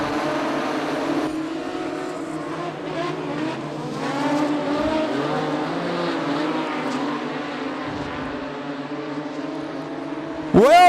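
Modified production race cars, including a small Mazda, race at Charlton Raceway. Engines drone and rise and fall in pitch as the cars pass at a distance in a steady flow, and a brief sharp squeal comes at the end.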